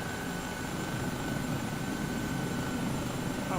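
Helicopter flying in Microsoft Flight Simulator over Los Angeles, a steady close rotor and engine drone with a faint high tonal whine, even and unbroken for a few seconds.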